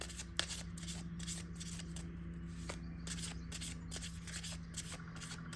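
Tarot cards being shuffled by hand in quick repeated bursts, a crisp riffling rhythm close by over a low steady hum.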